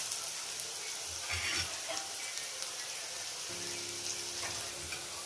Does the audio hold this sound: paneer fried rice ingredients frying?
yes